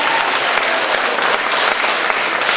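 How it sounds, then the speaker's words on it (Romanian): Dense, steady applause from a crowd at an outdoor charity concert in Arad, filling the whole stretch loudly with no voices over it. "Haideți să aplaudăm!"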